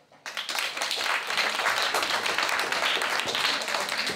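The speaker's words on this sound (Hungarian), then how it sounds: "Taps!" Award ceremony audience breaking into applause after a brief quiet start, a moderately loud, dense burst of many hands clapping that holds steady to the end.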